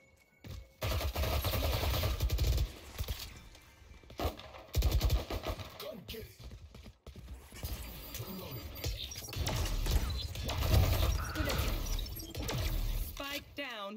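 Gekko's turret firing in Valorant ranked play, rapid bursts of gunfire in several clusters with shattering impacts, voices talking over the action at times.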